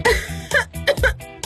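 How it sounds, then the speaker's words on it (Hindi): A person coughs several times in short bursts with a throaty, rasping edge, close and loud, the coughs separated by brief pauses. "तुम्हें खांसी हो रही है?"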